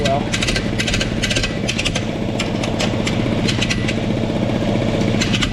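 An air compressor runs loud and steady right beside a 1970 M670, its motor pulsing in a fast rhythmic chug that stays continuous from start to finish.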